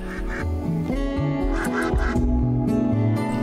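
Cartoonish duck quacks from a RimWorld colony game, repeated in a steady stream over layered music and game sounds, moderately loud.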